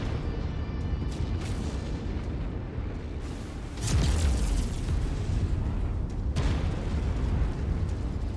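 Heavy weapons fire and explosions in the mech combat game MechWarrior 5, a continuous rumbling barrage of booms with a strong blast near the middle and another burst later, loud and close throughout.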